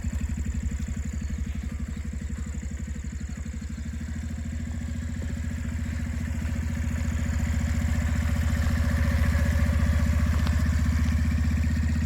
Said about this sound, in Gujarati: રાકેશ બાઇક લઈને નીકળી ગયો છે.